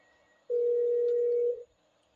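A phone tone in GTA 5 plays while a cab is booked: one steady, loud tone that lasts about a second, alone, with nobody speaking.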